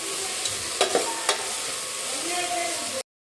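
Finely chopped tomato sizzles in a hot pan as it is stirred in, steady frying hiss broken by three or four distinct spoon knocks and scrapes against the pan, close by with no voices.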